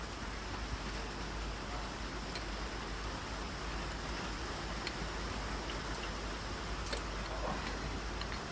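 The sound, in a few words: heavy rain falling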